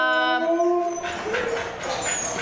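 Sled dogs howl in a long, tonal chorus that gives way to a jumble of close barks and yips, loud throughout.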